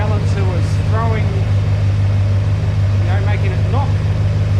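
1946 Chevy pickup with a 350 small block V8 idling, a steady loud low hum close to the microphone, with someone talking over it.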